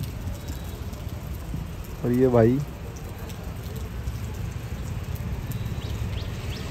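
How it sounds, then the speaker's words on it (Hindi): Rain falls steadily as an even hiss across the hills of Dehradun, heard from a hotel; someone briefly speaks over the constant downpour, which continues alone afterward. "फुल बारिश हो रही है"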